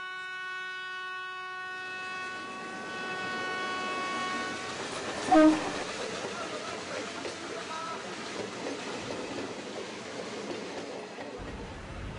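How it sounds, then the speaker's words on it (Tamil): A train approaches with a long, steady horn blast, followed by a rising rumble and rattle of rail cars passing nearby. "ஏதோ சத்தம் கேக்குது, ட்ரெயின் வர மாதிரி இருக்கு"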